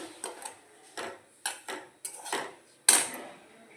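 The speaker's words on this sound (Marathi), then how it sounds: "1-2 मिनिट आपण हा रवा तुपावर मध्यम गॅसवर परतून घेणार आहोत." A spoon scrapes and clinks against a pan as semolina is stirred and roasted in ghee over a medium flame for mango sheera, giving a series of about eight distinct close knocks and scrapes with no talking.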